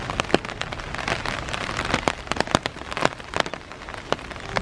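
Steady rain pours at a small shrine in a Japanese neighbourhood, with dense pattering and sharp drips striking nearby surfaces throughout, loud and close with no voices.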